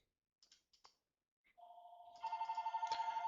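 A house telephone rings indoors, preceded by a few faint clicks, then a sustained electronic ring tone that grows louder and pulses in a rapid warbling pattern, close and alone.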